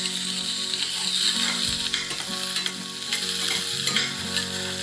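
Green chillies fry in a generous amount of oil for a curry, producing a loud, continuous close-up sizzle with scraping stirs of a spoon against the pan and a low background hum.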